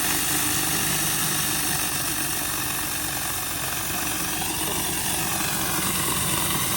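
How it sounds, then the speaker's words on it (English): Pressure washer with a surface cleaner working over an asphalt driveway, a steady loud broadband roar and hiss with engine drone underneath, continuous throughout without pauses. "We're gonna try the surface cleaner, see if it gets a little bit more even."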